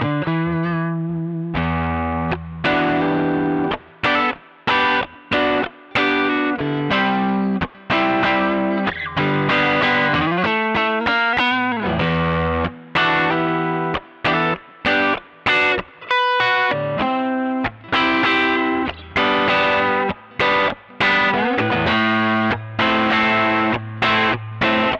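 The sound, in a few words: electric guitar, neck pickup, through Strymon Sunset 2-stage overdrive pedal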